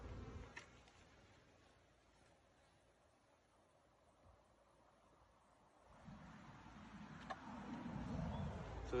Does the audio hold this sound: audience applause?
no